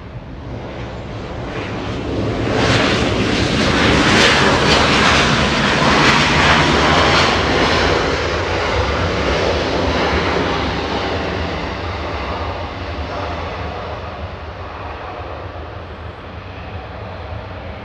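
A Southwest airliner arriving from Chicago Midway roars in loudly at Los Angeles International Airport, the broad engine noise swelling to a peak and then slowly fading.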